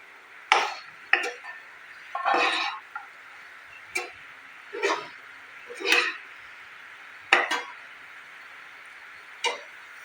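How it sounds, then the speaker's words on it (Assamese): Pumpkin curry being stirred in a cooking pot after its lid is lifted: a series of separate, sharp metallic clinks and scrapes spaced a second or so apart, close and fairly quiet, with no voices. "এইদৰে মই ঢাকনি গুচাই মাজে মাজে লাৰি থাকিম"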